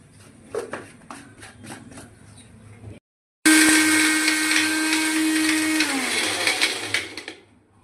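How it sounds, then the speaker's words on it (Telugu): A kitchen mixer grinder whirs loudly as it grinds star anise, dry ginger and other spices into masala tea powder. The motor runs continuously for several seconds, then its pitch drops as it winds down, after a few soft taps and a brief silence. "ఇప్పుడు పౌడర్ మనం మిక్సీ పట్టుకుందాం"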